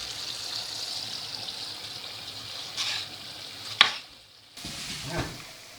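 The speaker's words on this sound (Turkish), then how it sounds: "Kıymanın da kavrulması lazım biberin de." Peppers and minced meat sizzle steadily in a hot pan, a soft hiss with a few clinks and stirring scrapes, near and moderately loud, no talking.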